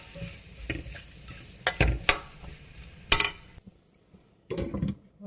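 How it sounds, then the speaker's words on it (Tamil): A spoon scrapes and clinks around a pan of potatoes with turmeric, chili and salt, in a handful of sharp, irregular stirring strokes separated by brief quiet gaps, close and without any talking. "சேர்த்து நல்லா கலந்துக்கோங்க."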